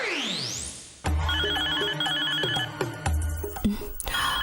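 A phone ringtone plays indoors at moderate volume, a repeating electronic melody that stops briefly and restarts, with no voices over it.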